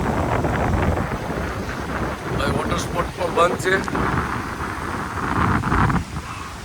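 Stormy wind roars across the microphone at Nagoa beach with the wash of rain and surf beneath, while someone speaks briefly over the noise.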